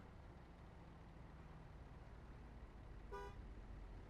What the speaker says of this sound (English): Oh, you're gonna honk at me, huh?